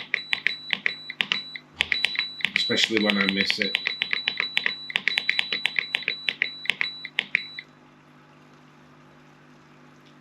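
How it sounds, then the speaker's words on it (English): Rapid, regular electronic beeps from a Hygger HG043 aquarium heater controller repeat for about seven seconds, with a steady high tone under them and a short stretch of speech partway through, then quiet hum. "I do apologise for the beeping"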